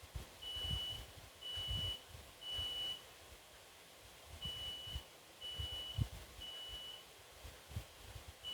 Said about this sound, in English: the guy is checking the alarms.